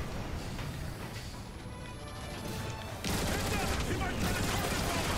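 Sustained gunfire in the video game Transformers: War for Cybertron, a dense continuous barrage of rapid shots, growing louder and busier partway through, with voices talking faintly underneath.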